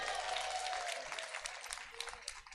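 An audience at a Sacco annual general meeting applauds vote results, a dense burst of clapping from many hands that holds steady and then thins slightly toward the end.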